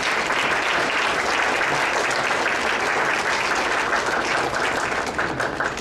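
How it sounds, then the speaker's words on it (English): An audience applauds at a community ceremony honoring senior volunteers, a thick, sustained roar of clapping that holds at a steady loud level for several seconds before easing slightly at the end. "Let's give a round of applause to Jesse and Nellie."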